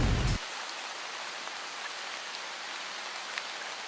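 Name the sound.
rain in a video game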